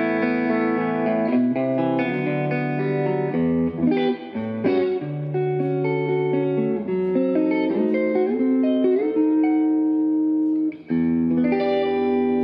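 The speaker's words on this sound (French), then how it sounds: "Voilà, donc beau son clair, assez puissant, réverb." An electric guitar plugged straight into an amplifier rings out in a clean, fairly powerful tone with reverb, playing sustained chords and melodic lines continuously for several seconds.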